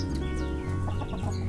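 Hens cluck and fuss close by in a farmyard, a few short clucking calls standing out over a steady low background hum, with no talking.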